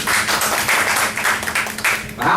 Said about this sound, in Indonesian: Tepuk tangan Mas Dito.